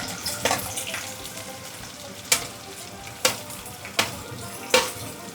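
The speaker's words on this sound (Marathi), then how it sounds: "तेल छान तापलं आहे आपलं मी आधी लसूण टाकते कढीपत्ता कांदा टाकते" Garlic, curry leaves and onion frying in hot oil, a continuous sizzle broken by several sharp clangs of a spoon striking the pan at steady intervals.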